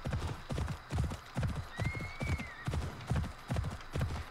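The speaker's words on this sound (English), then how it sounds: "Phoebus is a good horse," Hooves clip-clop at a steady walking rhythm in the video game Assassin's Creed Odyssey, close and clear, with a brief horse whinny rising in the middle.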